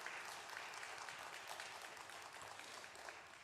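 Steady applause from a church congregation during a Sunday anniversary worship service, continuous and fairly even for a few seconds with no talking.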